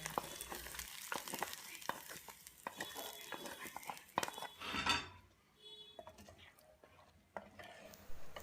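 Hot tempering of coriander and curry leaves poured into a pot of mutton curry. Clinks and a crackling fry build into a sharp sizzling surge, then quickly subside to a quieter simmer, close up.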